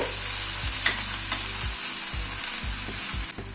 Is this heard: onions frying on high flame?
yes